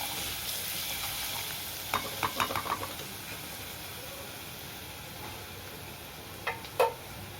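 Chili paste sautéing in a pan for pithla, a soft steady sizzle with a short burst of spatula scrapes and taps in the middle and two more near the end, fairly quiet and close.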